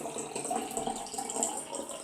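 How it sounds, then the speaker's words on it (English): Water poured steadily into containers to tune a homemade xylophone, a continuous soft splashing trickle at moderate level throughout, with no speech. "So all I'm doing is adding water and slowly making the water higher and"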